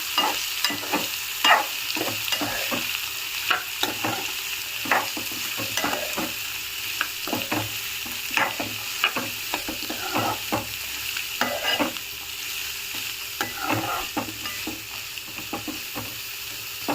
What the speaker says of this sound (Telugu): కరివేపాకు రెండు మిర్చి అండ్ మనం కట్ చేసి పెట్టుకున్న క్యారెట్ వేసుకుందాము ఒకసారి మిక్స్ చేసుకుందాం